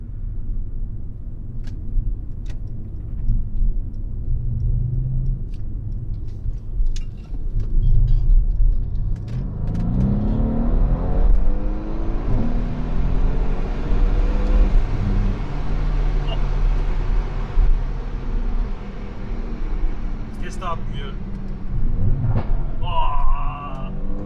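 Mercedes C63s AMG with a catless downpipe exhaust revs hard, loud and close, with deep rumbling swells and rising engine pitch over a steady idle.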